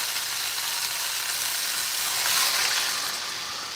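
Water goes into a hot pan of chicken caldereta, raising a loud, steady sizzle and hiss that briefly swells at the middle before easing off slightly.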